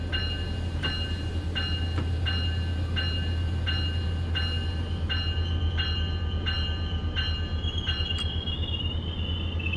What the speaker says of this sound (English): You can hear his motor spooling down.